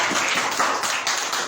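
Church audience clapping and cheering during a French worship service about the Holy Spirit, a dense, steady patter of many hands filling the brief moment with no pauses.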